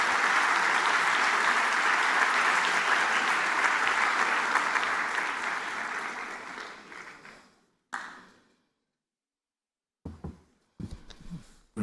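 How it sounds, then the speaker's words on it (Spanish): Steady, full audience applause that gradually fades out, followed by silence and a few faint knocks and movements. "lo despedimos con un aplauso"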